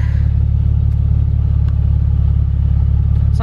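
A Lexus IS 350 F Sport with a Remark aftermarket exhaust idles steadily up close, a deep, loud, continuous low rumble with a faint rhythmic pulse and no talking over it.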